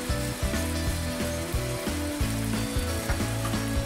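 Beef and soy sauce simmer in a pan over low heat, giving a steady sizzle and bubbling with recurring dull knocks and stirring scrapes, no voices present, moderately loud and close.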